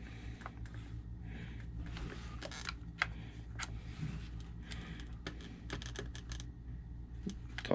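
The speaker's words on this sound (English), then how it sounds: "So let me zip tie this here." A zip tie is pulled tight while installing a fan on an RC car, a rapid series of small ratcheting clicks in bursts, close and quiet.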